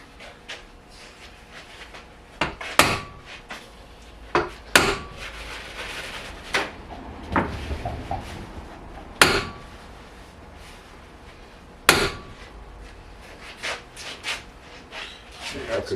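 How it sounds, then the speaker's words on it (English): Hammer taps on a Porsche 924 rear wheel bearing being started into its housing: several sharp metallic knocks at irregular intervals, close and loud, with quieter scraping and handling noises between them. "we can give him a tap with a hammer to get it started straight"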